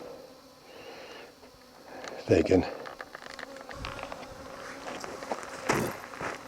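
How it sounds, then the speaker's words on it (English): A cloud of bees buzzes close around the tailpipe of a parked van, a steady insect drone running throughout with a brief louder burst near the start of the second half; someone speaks quietly over it. "I'm kneeling right down here in a cloud of bees by the tailpipe on this thing"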